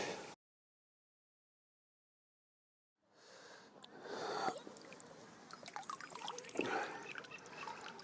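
Water drips and splashes softly, close by and quiet, as a carp caught from a clay-pit pond is let back into the water after a short stretch of silence.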